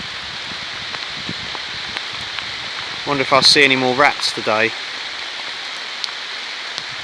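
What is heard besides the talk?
rain falling at Needham Lake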